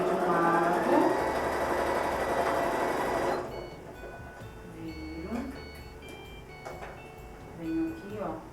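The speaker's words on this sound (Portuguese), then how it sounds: "Costurei de um lado." A sewing machine stitching patchwork fabric runs in a fast, steady loud whirr for about three seconds, then stops, leaving someone talking with soft handling clicks.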